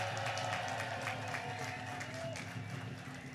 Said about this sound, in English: Let's give her a round of applause and thank her for her leadership.